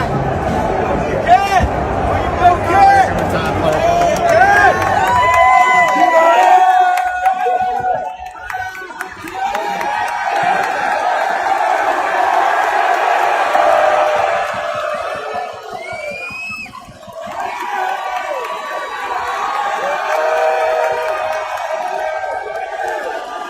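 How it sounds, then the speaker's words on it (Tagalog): A basketball arena crowd at the Frost Bank Center in San Antonio cheers loudly for Karl Anthony Towns, with roaring swells and babble that dip and rise again. A commentator talks over much of it. "Grabe ang pag-cheer sa crowd sa kay Karl Anthony Towns."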